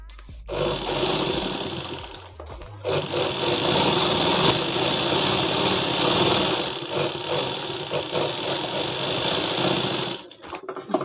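A sewing machine stitches a bag made from a sack in long, steady, loud runs, stopping briefly near the start and again near the end, with no talking.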